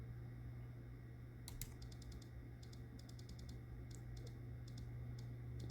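An Athearn model locomotive with a DCC decoder sits on a programming track, making faint, rapid clusters of light ticking clicks in short bursts over a quiet background hum.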